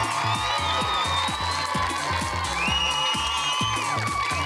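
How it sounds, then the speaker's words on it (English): Studio audience on a game show cheering and clapping for a contestant, a lively crowd roar with whoops and shouts, steady and loud throughout, with rhythmic low thumps beneath. "And everyone, give Hope a round of applause."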